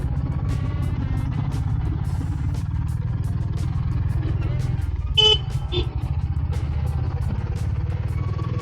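A single short vehicle horn honk cuts through congested rainy Bangalore traffic, heard over the close, steady drone of a motorcycle engine.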